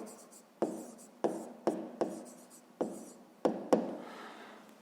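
Hand-writing numbers on paper during a fifth-grade math exercise, a quiet series of about eight sharp pen taps and short scratchy strokes at irregular intervals, close and alone, with no voices.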